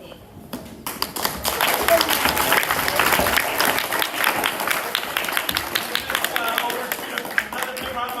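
Crowd applause at an elementary school gathering honoring a teacher, starting after a brief quiet moment and building into loud, sustained clapping with some distinct close claps, with voices mixed in.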